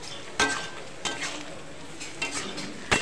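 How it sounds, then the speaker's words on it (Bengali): Red amaranth greens are stir-fried in a pan, a steady sizzle broken by about four sharp scraping stirs of a spatula against the metal. "আমি এখানে লাল শাকটা একটুখানি ভাজা করে নেবো"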